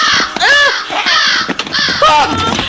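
Loud, harsh crow caws ring out close by, two strained calls separated by a brief pause.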